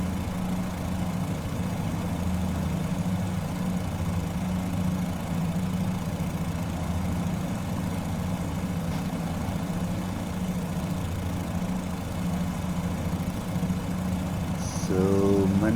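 A Fokker F.VII's engines drone steadily in Microsoft Flight Simulator 2024, a continuous low hum with little change in pitch, running alone throughout.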